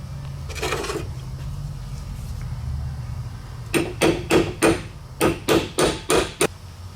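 A hammer taps a seal into the motor case of a KTM 300 two-stroke engine during a rebuild, with seven sharp, evenly spaced close strikes in a quick run after a faint earlier knock.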